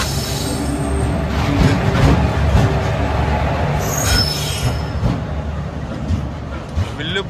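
A Villupuram–Mayiladuthurai intercity express passenger train pulls into a station platform, its wheels squealing and grinding loudly with heavy rumbling throughout, a high metallic screech near the end.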